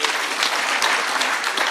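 Dense crowd applause at an outdoor public security forum in Kisumu, a steady wash of many hands clapping loud and close for the full stretch with no pause.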